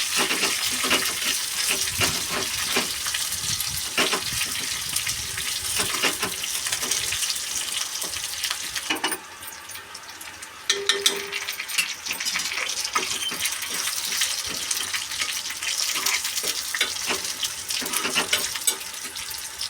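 Spices tempering in hot oil for dal, a continuous close sizzle and crackle with stirring and occasional metallic clinks of a spoon on the pan, briefly quieter midway, no voices.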